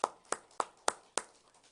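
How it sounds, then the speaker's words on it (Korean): Sharp handclaps in a church service, five crisp claps in a steady even beat, fairly close and alone with no talk over them, each fading quickly. "우리 다시 한번 하나님께 감사의 박수 드리겠습니다"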